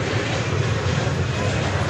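An American Airlines Airbus A320 jet begins its takeoff at Dallas Fort Worth airport, a loud, continuous engine roar with a low rumbling drone, brief and unbroken.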